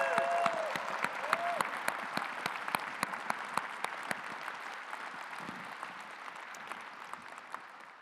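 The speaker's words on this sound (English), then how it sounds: "Can we give them a huge round of applause?" Applause from the audience at an awards ceremony, a dense, steady wash of many hands clapping with a few sharp individual claps standing out, sustained and gradually easing off, with no talking over it.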